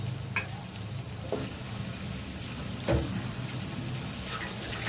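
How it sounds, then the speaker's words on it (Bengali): Chicken meat frying in a hot pan gives a steady, fairly quiet sizzle, broken by a few brief clinks and scrapes of stirring, with no voices. "এরই মধ্যে আমি মাংসটাকে দিয়ে দিলাম।"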